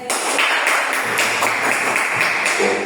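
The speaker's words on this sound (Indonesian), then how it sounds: "tepuk tangan untuk teman kalian" Classmates applaud in a school classroom during an Islamic education teaching lesson. The clapping is brief and steady, with a few sharper claps standing out.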